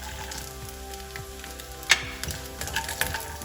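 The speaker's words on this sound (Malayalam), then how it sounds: "നെയ്യിലൊന്നുകൂടെ ഒന്ന് സോട്ട് ചെയ്തെടുക്കുമ്പോൾ ഒരു പ്രത്യേക സ്വാദ് കിട്ടും" Cashews sauté in ghee for payasam, a soft steady sizzle with light stirring and a few sharp clicks of a spoon against the pan.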